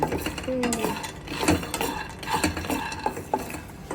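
About a cup of raw peanuts is stirred in a pan over a low flame for roasting, with a close, steady rattle and scraping of nuts and spoon against the metal and faint sizzling underneath.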